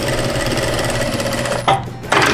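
A sewing machine stitching a fabric strip onto a patchwork placemat, loud continuous whirring drone with rapid mechanical needle rhythm, briefly easing near the end before resuming.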